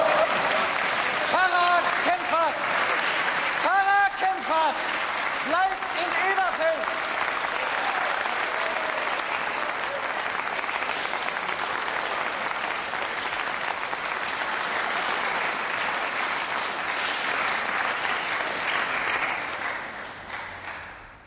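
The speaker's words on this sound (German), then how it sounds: "Applaus" Sustained applause from a theatre or church-hall audience, steady and dense for most of the stretch with a few scattered cheers early on, then fading out at the end.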